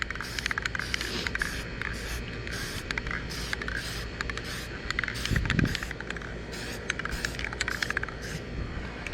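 Clear coat sprayed onto a car tail light: a steady hiss of aerosol spray runs throughout with fine crackling patter and a brief low thump midway, close and even in level.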